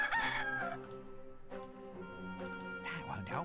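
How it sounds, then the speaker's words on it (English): A cockerel crows in the Discworld II point-and-click game, a harmonic call of several rising and falling tones that sounds over game music, with someone talking at the same time. "See, there's this cockerel here."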